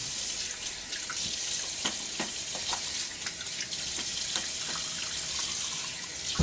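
A steady stream of tap water runs close by as a 1934 Gillette Aristocrat safety razor is rinsed, with occasional small splashes and clinks through the continuous flow.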